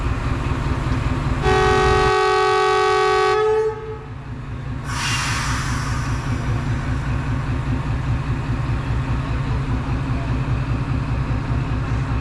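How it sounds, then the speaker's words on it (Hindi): A Chinese-made diesel electric locomotive with a Caterpillar engine at Wazirabad Junction in heavy fog sounds a loud sustained two-tone horn for about two seconds over a steady throbbing engine rumble, then a short hiss and continued idling drone. "डीजल इलेक्ट्रिक लोकोमोटिव है।"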